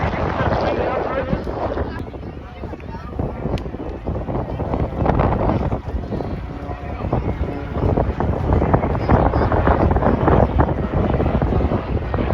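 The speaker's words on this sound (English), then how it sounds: "Remember how windy it is today" Steady gusting wind buffets the microphone at an air show, mixed with the distant drone of aircraft engines and a voice talking underneath.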